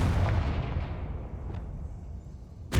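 A Confringo blasting spell in the video game Hogwarts Legacy lands as a loud, booming explosion that rumbles and decays over a couple of seconds, followed by a sharp crack at the very end.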